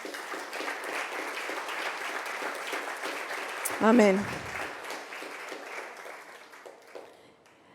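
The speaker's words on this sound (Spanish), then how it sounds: "Vamos a darle un aplauso al Señor" Church congregation applauding, a broad steady wash of clapping that continues for several seconds, with a voice briefly calling out over it midway before the applause fades.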